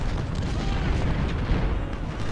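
Artillery fire in the Civil War strategy game Ultimate General: Civil War, a dense, continuous rumble of distant cannon booms blending into one low roar.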